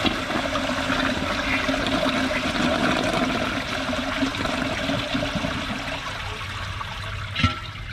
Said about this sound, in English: Let's see if it can take all of that thick tissue paper.